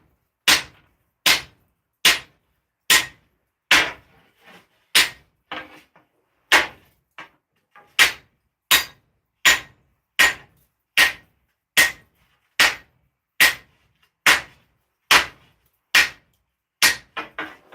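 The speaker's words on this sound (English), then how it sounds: "we're almost done forging it" Heavy hammer blows ring out one by one in a steady, even rhythm while forging a seven-foot steel sword. There are about twenty sharp strikes, each loud and close, and no one speaks.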